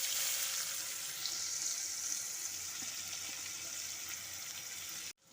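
Chopped onion and nigella seeds sizzle in leftover fish-frying oil, a loud, continuous crackling hiss that cuts off abruptly at the end.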